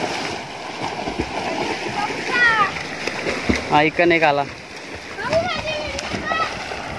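Children jump and splash into water while bathing outdoors, with a few splashy bursts and water movement under frequent children's and adults' chatter and shouts throughout.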